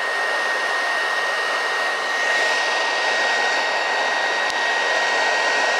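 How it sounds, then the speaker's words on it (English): A PlayStation 5 game console's cooling fan roars steadily and loudly up close with a constant whooshing hum, swelling slightly midway, with no talking. "y'all hear this? It sounds like a whole jet engine."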